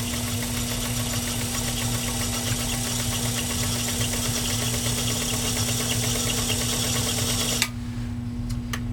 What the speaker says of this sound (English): let's see how this machine does with 4 layers of heavy grade canvas